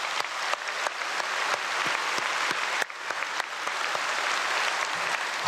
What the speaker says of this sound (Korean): 우리 하나님께 감사의 박수 한번 올려드리겠습니다.